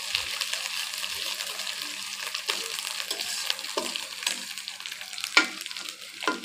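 Onions fry in a pan with a bright, close sizzle, punctuated by the scrape and clatter of stirring strokes.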